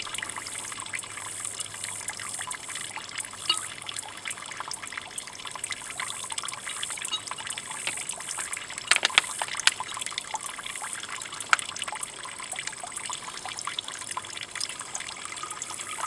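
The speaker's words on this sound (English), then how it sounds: "squeeze it into my water bottle" Water trickles and dribbles steadily as it is squeezed from a bag into a water bottle, a close, gentle liquid stream with a few small splashes and no voices.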